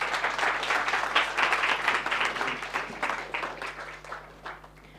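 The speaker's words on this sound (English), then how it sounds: "Big applause." An audience applauds mentors on stage at a pitch event, a full round of many hands clapping that swells early and gradually tapers off, with a faint steady hum beneath.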